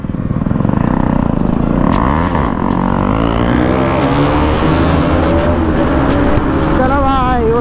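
A Bajaj Pulsar motorcycle running with its exhaust dB killer removed roars close and loud, its pitch climbing and falling repeatedly as the throttle is worked, keeping up a continuous rasp throughout.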